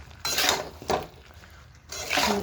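A spiced mixture with salt, turmeric and Kashmiri chilli powder being sautéed in a pan: three short bursts of scraping and sizzling as the spatula moves it around, close and fairly loud, with quieter gaps between.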